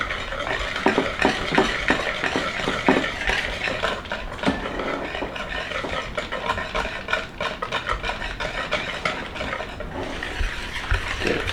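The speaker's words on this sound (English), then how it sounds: "Mix the flour in." Batter for a Japanese cheesecake being mixed with flour, a steady wet stirring and scraping in a bowl that runs continuously and fairly close, with soft clinks of the utensil and no talking.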